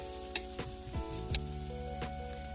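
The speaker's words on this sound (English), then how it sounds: "Then put garlic and green onions and stir them with low-medium heat." Garlic and green onions sizzle over low-medium heat for a Korean soft-tofu stew, a continuous soft frying hiss with a few light stirring knocks and a gentle musical tone underneath.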